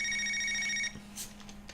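An old telephone bell rings loudly and steadily for just under a second, then cuts off, leaving a quieter room with a few faint clicks and rustles.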